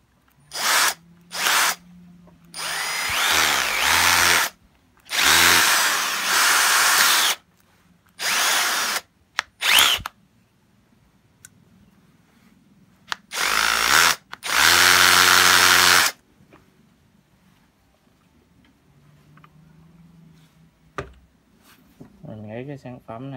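A Bosch GSB 140-LI cordless drill runs in hammer mode in several loud bursts of rattling, buzzing whir, each lasting one to two seconds and separated by short silences, with no talk.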